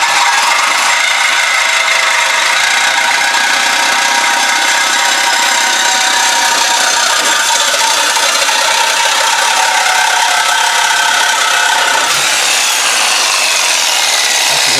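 A saw fitted with a Diablo blade grinds steadily through a 2001 Buick Park Avenue muffler exhaust, a loud, continuous, high-pitched metal-cutting whine that shifts slightly near the end, with no talking.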